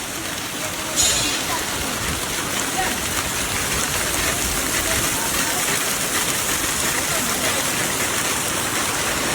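Rainwater from a factory roof gutter pours into a tank through a pipe, a steady dense rushing and splashing that carries on without break, with a voice speaking faintly over it.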